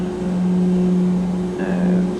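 Simulated L410 twin turboprop engines idling in the X-Plane 11 flight simulator, a steady low drone with a constant tonal hum and a faint higher whine joining late.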